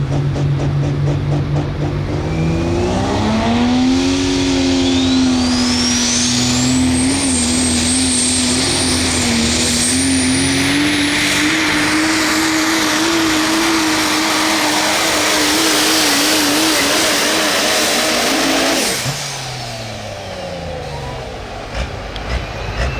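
A super stock diesel pulling truck roars at a tractor pull in Osceola, Iowa, its engine revving loud and close with a rising, sustained howl and whistling turbo for most of the run before the power cuts off near the end.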